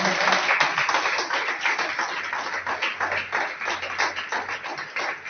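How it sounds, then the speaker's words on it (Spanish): A church audience claps and applauds in praise, a continuous, lively patter of many hands with voices mixed in and a low hum beneath. "Denle un aplauso al Señor"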